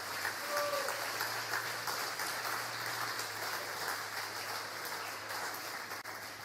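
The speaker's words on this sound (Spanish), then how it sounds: "Un fuerte aplauso al Señor." A church congregation applauds during a sermon, a soft, steady patter of clapping heard from a distance, with no voices over it.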